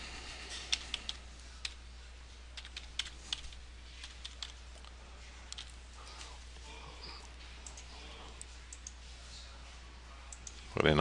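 A credit card number typed on a computer keyboard: quick, light key clicks in scattered clusters over a low steady hum, quiet and close, ending with a louder bump.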